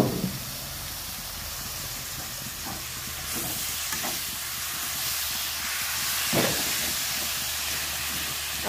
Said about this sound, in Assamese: তেল ওলোৱালৈকে ভাজি থাকিম আমি